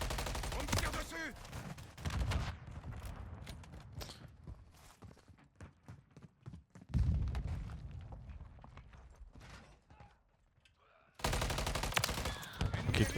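Bursts of gunfire from Call of Duty Modern Warfare 3 crackle loudly at the start and again near the end, with quieter footsteps and scattered shots between.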